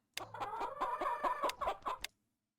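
A chicken in the business-simulation video game Capitalism Lab clucks in a quick, close run of sharp clucks lasting about two seconds, clean and alone before cutting off into silence.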